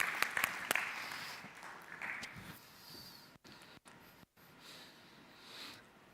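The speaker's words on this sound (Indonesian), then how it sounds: "Tepuk tangan untuk pemain sinetron kita" Quiet applause from a church service audience for soap opera actors: a few sharp claps up front, then a soft, thinning patter that fades with brief gaps, no speech over it.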